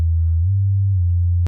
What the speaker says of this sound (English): you have a sine wave here